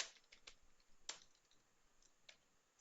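Computer keyboard keys clicking during Java coding, a few sparse, faint taps spread irregularly over a quiet background.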